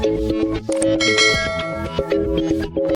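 A bell notification sound effect: bright chimes ring out in quick repeated dings, forming a short, loud, melodic jingle.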